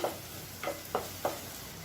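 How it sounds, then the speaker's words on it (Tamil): Spices frying quietly in oil with soft sizzling on low heat for egg kootu, broken by four short stirring scrapes spaced evenly apart. "இப்போ எல்லாத்தையும் நல்லா வறுத்துக்கலாம்"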